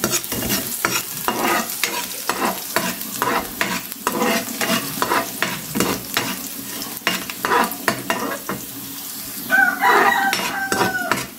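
Chopped garlic dropped into ginger frying in a pan for chicken liver adobo, with loud, busy spatula stirring and scraping over a constant sizzle, and a rooster crowing faintly in the background near the end.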